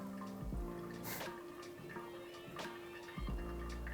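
Water from a V60 pour-over trickles and drips steadily onto coffee grounds close by, with faint ticking and small splashes, no voices.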